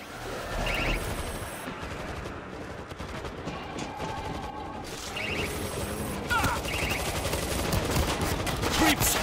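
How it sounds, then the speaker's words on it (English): Several sentry guns fire in the World War Z video game, their bursts rattling and cracking at a moderate level amid other game noise, growing busier toward the end. "Multiple sentry guns!"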